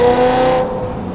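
Exhaust of a BMW E92 M3 with an aftermarket system, a loud, tonal engine note that rings strongly at first, then drops off and fades as the revs fall away within about a second.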